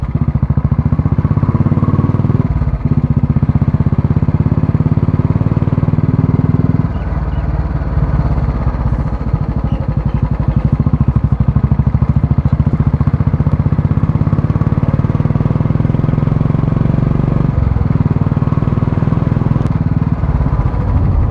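A Royal Enfield Classic 350 motorcycle engine runs steadily and loudly throughout, a continuous low thumping drone that dips briefly in tone a few times, with no talk over it.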